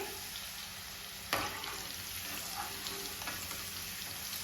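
Potato sticks for McDonald's-style French fries hiss and crackle steadily in hot oil, a close, even sizzle with a brief clatter near the start.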